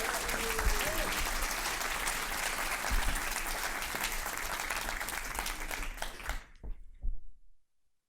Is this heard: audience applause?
yes